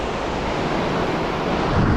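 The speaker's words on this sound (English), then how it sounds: "Just found the beach." Waves break on a beach at the Bay of Fires, Tasmania, a loud continuous rush of surf mixed with heavy wind buffeting the microphone.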